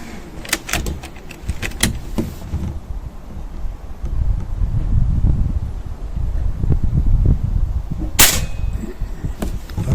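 Rifle shots ring out on a very windy day: a cluster of sharp cracks early on, then one more loud report later, with heavy wind buffeting the microphone in between.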